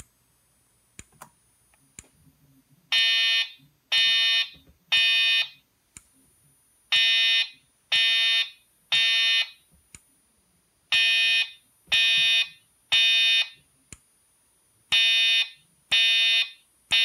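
EST 3 voice evacuation alarm tone in a Silent Knight female-voice evac system: groups of three loud, sharp electronic beeps repeat with short gaps between sets, clear and alone after a brief quiet start.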